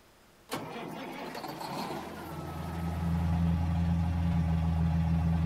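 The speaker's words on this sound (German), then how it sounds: "Hört sich an wie ein leerer Auspuff." A Mack truck engine in American Truck Simulator cranks and fires with a sudden start, then settles into a low, steady rumbling idle with a deep exhaust drone that grows slightly louder.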